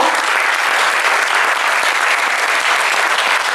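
Audience applause fills a hall after a book about Latin is praised, a dense, steady clapping that stays loud and even throughout with no voices on top.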